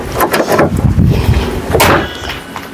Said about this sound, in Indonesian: Kita tutup ya pintu-pintunya.